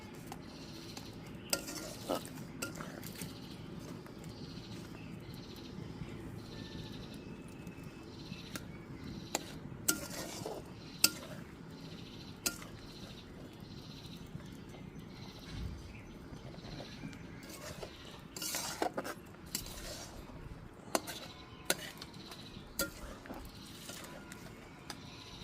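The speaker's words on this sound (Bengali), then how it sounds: "হালকা হালকা নাড়তেই থাকতে হবে।" A spoon gently stirs fish roe boiling in a kadai, with soft scraping and bubbling under faint, intermittent clinks, quiet and close for the whole stretch.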